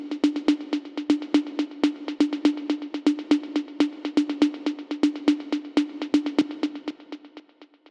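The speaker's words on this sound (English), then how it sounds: "also a tonal tom here." Tonal tom drum from an Afro House remix, a pitched, filtered hit repeating in a quick steady pattern, clean and upfront, fading slightly at the end with nothing else playing.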